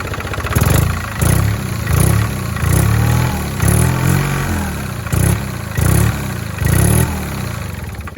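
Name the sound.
Fox engine of a Lyra microcar being revved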